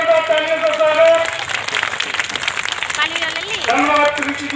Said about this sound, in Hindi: एक आपके गीत की महिला के लिए जोरदार तालियों का स्वागत।